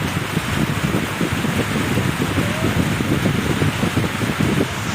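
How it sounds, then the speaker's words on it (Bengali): Rain falls in the Sundarbans, a dense, even hiss of drops mixed with wind rumble, loud and steady for the whole stretch, with no voices. "সুন্দরবনে বৃষ্টি হবে কিছুক্ষণ মধ্যেই সত্যি কিন্তু বৃষ্টি হলো"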